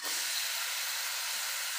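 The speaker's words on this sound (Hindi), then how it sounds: "प्याज को हम अच्छे से फ्राई कर लेंगे" Onions frying in oil in a pan or kadhai for a dal, giving a steady, even hiss of sizzling that holds close and unbroken throughout.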